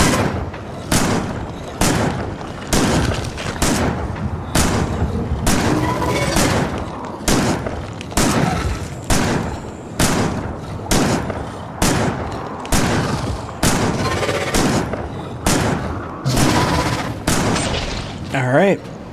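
Shotgun blasts boom steadily at enemies in a factory-building video game, heavy regular shots roughly every second throughout, loud and close, with no one talking.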